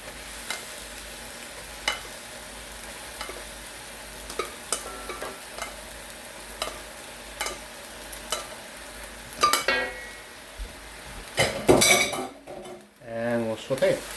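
Sweet potato glass noodles stirred into vegetables in a pan, with scattered clinks and scrapes of a utensil against the pan over a low sizzle, growing busier and louder toward the end.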